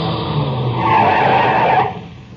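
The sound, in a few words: car approaching on a rough road, skidding to a stop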